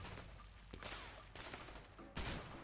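Gunfire from the video game A Way Out, with a few sharp shots breaking through a noisy game mix, the loudest burst near the end.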